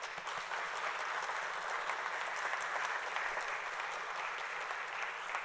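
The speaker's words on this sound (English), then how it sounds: "I think they deserve a big round of applause." Steady, even applause from the audience at a police academy graduation, a continuous wash of clapping heard from a distance and moderately quiet, holding for about five seconds.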